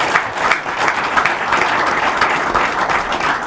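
Audience at an association meeting on a leadership conflict clapping for the complainants, a loud, dense burst of many hands applauding steadily and close.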